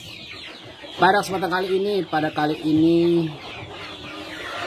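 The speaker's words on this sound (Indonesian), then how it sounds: "sebuah peternakan kecil skala rumahan ayam kampung Sentul" Free-range village chickens (ayam kampung) cluck and call at a small home-scale poultry farm, a few loud, close squawking phrases over steady background noise, with someone speaking at the same time.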